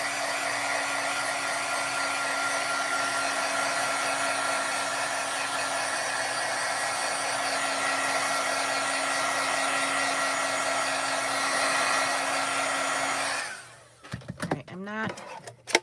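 Heat tool blowing hot air steadily for about thirteen seconds to heat set a craft piece, a constant whooshing hum that cuts off, followed by brief handling clatter and faint sounds.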